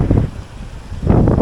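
Gusts of wind buffet the microphone beside an urban creek in Japan in low rumbling bursts, strong at the start, easing briefly, then surging again.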